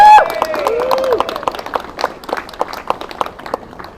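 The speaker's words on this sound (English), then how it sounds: "So give Tessa a round of applause." Audience clapping as a speaker is introduced at a Welsh event, a loud burst of many hands that thins into scattered separate claps over four seconds, with a brief voice at the start.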